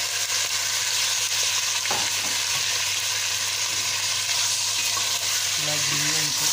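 Meat sizzles and fries steadily in a pot with onion, a dense continuous crackling hiss throughout, with a faint stirring clunk partway and a brief low voice near the end.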